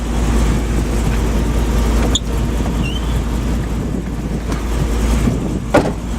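A pickup truck's 5.3 liter V8 engine gives a steady, loud rumble throughout, with a low idling drone and a brief rev near the end; no talking.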